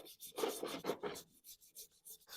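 A soaked part from a 1-ton chain hoist being scrubbed by hand, giving a series of short, close rubbing and scraping strokes in an uneven rhythm with brief pauses between them.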